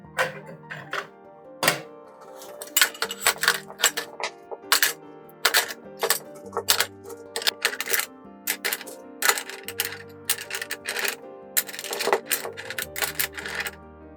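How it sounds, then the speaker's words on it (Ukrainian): Small stones clatter and rattle into a metal pot for a homemade bioethanol fireplace in a steady series of sharp, bright clinks, with a few louder knocks mixed in. "І заповнюємо наш біокамін камінцями."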